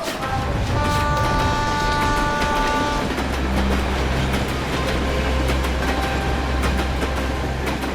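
A train pulls away from a station, a loud steady rumble with ringing tonal whines and clattering wheels that carries on throughout.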